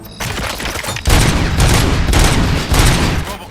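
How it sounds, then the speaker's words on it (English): Video game gunfire in RoboCop: Rogue City, a rapid barrage of loud shots crackling nearly continuously, with heavier bursts kicking in after a brief lighter stretch. "Gunshots? What's going on?"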